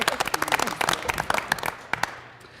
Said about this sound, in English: So we give her a round of applause, please.